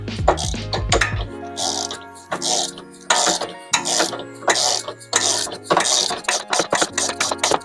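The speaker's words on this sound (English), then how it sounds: "Take your 16 and go ahead and tighten this nut down until it bottoms out onto this sway bar." A 16 mm wrench tightens a nut down onto the sway bar of a 2005-2012 Porsche 911, Cayman or Boxster drop link, giving a run of close metallic ratcheting clicks in short bursts, with scattered clinks and knocks.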